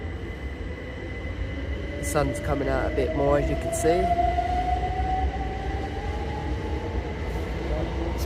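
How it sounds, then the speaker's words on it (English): A train pulling in or out of a station, heard as a steady low rumble with a long rising whine, under someone speaking nearby. "Is the train just pulling in or just leaving?"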